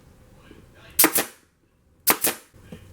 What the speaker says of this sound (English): I'm going to pull this back to this corner here and staple it